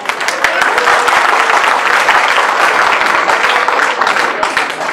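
Audience clapping steadily at a Syro Malabar parish feast in Hartford, a dense, loud wash of hands filling the hall for several seconds with some voices mixed in.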